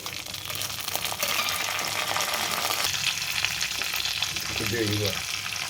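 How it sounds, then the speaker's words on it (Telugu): Curry leaves, urad and chana dal, mustard seeds and cumin crackle and sizzle steadily in hot oil, fried as the tempering for a cluster bean mustard curry, and a voice speaks briefly over the frying. "ఇలా నూనె కొద్దిగా కాగుతున్నప్పుడు మినపప్పు, శనగపప్పు, ఆవాలు, జీలకర్ర ఇవన్నీ వేసి వేయించాలి."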